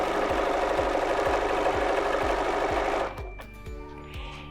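BERNINA 480 sewing machine stitching quilt binding, a close, rapid rhythmic chatter of needle strokes that runs steadily, then slows to a few separate thumps before stopping.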